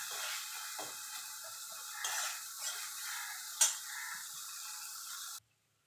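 Ginger paste and slit green chillies frying in oil in a pan for moong dal, a steady soft sizzle with light stirring scrapes and one sharp clink before it cuts off abruptly.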